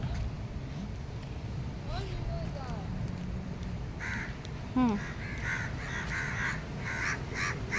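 Crows caw nearby, several distinct harsh calls spaced out over a steady outdoor background, with people's voices talking underneath.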